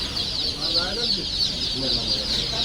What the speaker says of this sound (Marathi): हे सोनाली जातीचे सर्व पक्ष आहेत